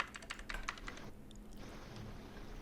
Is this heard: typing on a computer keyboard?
yes